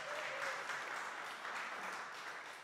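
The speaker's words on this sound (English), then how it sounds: "Let's give Carolyn a round of applause." A church congregation applauds Carolyn during a Sunday worship service; a short, steady burst of clapping from a gathered crowd, fairly distant and even throughout.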